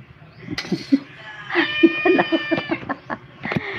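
Several cat meows, some drawn-out and wavering, close by, with a person softly imitating meows around them.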